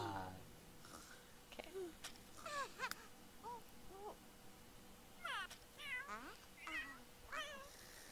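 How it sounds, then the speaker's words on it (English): Cat meowing in The Sims 3 life-simulation game, a string of short rising and falling mews spread across several seconds, some in quick clusters, fairly faint and heard without talk. "he's like just meowing"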